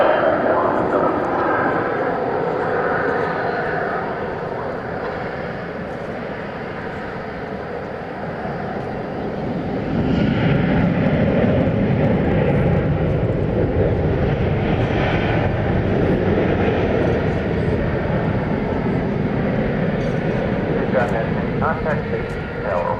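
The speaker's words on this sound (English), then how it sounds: "Here comes American 1580. It is a 737-800." An American Airlines Boeing 737-800 jet on a DFW airport runway after dark gives a steady, loud broadband roar that swells after about ten seconds and holds to the end, with a voice faintly over it.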